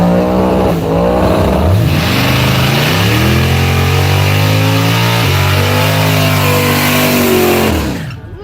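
Dodge Demon drag racing a Tesla Plaid, with a loud, near, supercharged V8 roar climbing through several gear changes in one sustained pull before cutting off abruptly.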